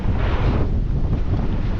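Steady wind roars across the microphone aboard a sailboat racing on the Atlantic, a loud continuous rushing with no voices.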